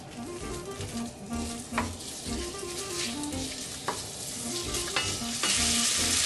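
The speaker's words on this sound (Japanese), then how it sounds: "溶けてきたら鶏肉を加えます。" Chicken frying in melted butter in a pot sizzles steadily, with a few sharp clinks and scrapes of stirring, close up and without talk.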